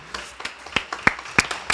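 Scattered hand clapping from an audience at a workplace celebration event, a handful of sharp claps at irregular intervals rather than full sustained applause, fairly faint and close.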